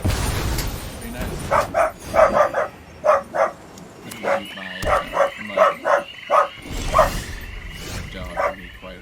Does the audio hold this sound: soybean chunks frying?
no